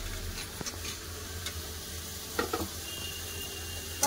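Chopped tomatoes frying with spices in a pan for a prawn curry, a quiet steady sizzle with a few light scrapes and ticks of a spoon, close and without voices.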